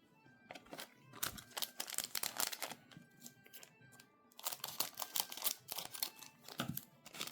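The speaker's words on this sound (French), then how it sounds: "C'est tellement chiant à ouvrir avec les ciseaux." Scissors cut open a Duelist Advance trading card booster pack. Dry crinkling foil and snipping come in two busy bursts separated by a quieter pause, with no talking.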